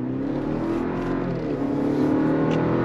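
A 2023 Chevrolet Colorado with the 2.7-liter engine pulling under throttle, a steady mid-pitched engine hum that swells slightly as it builds speed, with no talking.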